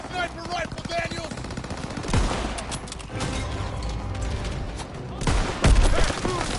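Sustained machine-gun fire and rifle shots from a WWII Call of Duty battle, a dense rapid rattle of bursts with heavier blasts near the end, loud and close under a shouting soldier's voice.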